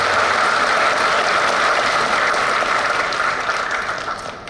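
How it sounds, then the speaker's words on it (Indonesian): Loud, sustained applause from an audience at a university rector's speech, a dense wash of clapping that tapers off slightly toward the end. "kami mohon tepuk tangan yang meriah atas kehadiran beliau pada kesempatan kali ini"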